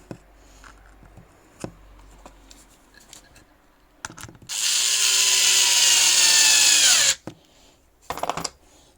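A Teccpo cordless screwdriver whirs loudly for a few seconds as it drives a screw, preceded and followed by small clicks and handling taps.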